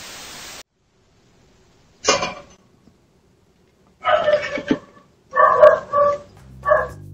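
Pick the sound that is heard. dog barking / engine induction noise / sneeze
dog barking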